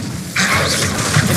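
An Incendio fire spell cast in Hogwarts Legacy bursts in suddenly as a loud whooshing blast, then roars on for about a second over a rumbling game background.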